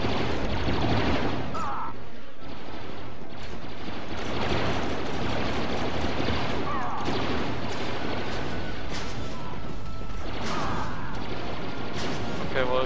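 Repeater blaster pistol fire in Star Wars Battlefront inside the Gamma Force Caves, a dense, continuous barrage of blaster shots and booming impacts, loud throughout with little letup.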